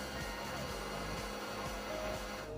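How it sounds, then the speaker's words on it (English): A sewing machine winds thread onto a bobbin, giving a steady motor whir with a faint repeating mechanical pulse, close and moderately quiet, with no talking. "As you can see, my thread is now winding."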